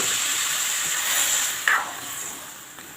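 Hot water poured into a pan of fried rice and spices for vegetable pulao sets off a steady hiss and sizzle, with a short, sharper burst of hissing partway through.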